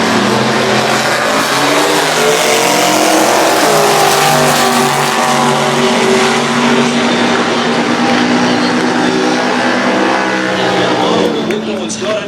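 A 1966 Chevy Nova with a 555 cubic inch big block drag racing at Winternats: a loud, sustained engine roar with a climbing, rasping note under an announcer's voice, easing off near the end.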